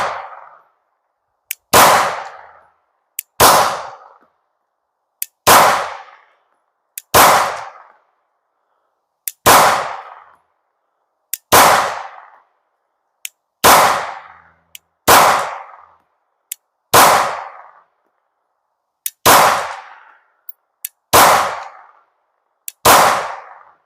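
A Glock 19 fitted with a Leo Precision Oden in Cobalt Blue fires a full magazine at the range: about eleven loud, sharp gunshots, each with a brief ringing decay and roughly two-second pauses between them.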